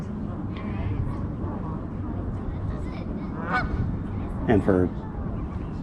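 Geese honk outdoors in a few short bursts, two louder calls standing out near the end, over a steady background hum with people talking nearby.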